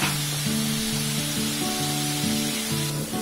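Potato pieces frying in oil in a pan over a low simmer, giving a steady, dense sizzle throughout, with a constant low hum of background tones underneath and no talking.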